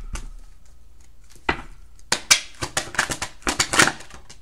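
Tarot cards are drawn and shuffled from a deck at close range, producing a quiet rustle and then a quick run of crisp slaps, flicks and riffles with no talk over them.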